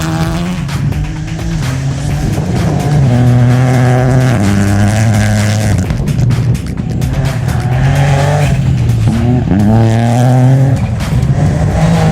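A Rally3 rally car with a modest-power engine revs and shifts up and down through the gears, loud and close, its pitch climbing and dropping in repeated pulls with tire noise and no talking.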